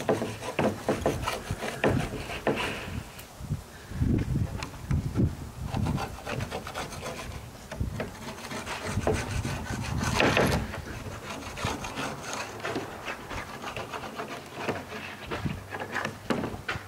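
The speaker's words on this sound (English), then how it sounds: "line it up with the edge of the ski and then run it along. And this time we're trying to get all the wax off" A notched scraper drawn along a ski edge to strip off wax, a continuous close, gritty rasping and rubbing in repeated strokes, moderately loud and without talk.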